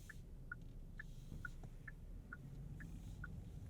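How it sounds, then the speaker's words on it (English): A 2023 Genesis G90 e-Supercharged's turn signal ticking in a steady, regular rhythm, about two clicks per second, soft against a low engine hum. "Turn signal sound with our blind spot camera going."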